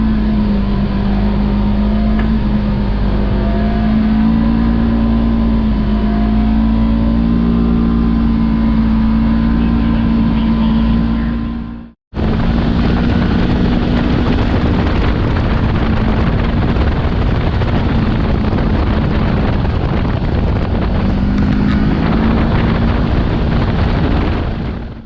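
Kawasaki KRX 4-seater side-by-side driving up sand dunes, its engine a steady loud drone with some revving throughout, briefly cutting out near the middle before resuming.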